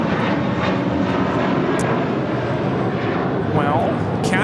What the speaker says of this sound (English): Taking off to Boston's Flight 888 on this A321 JetBlue.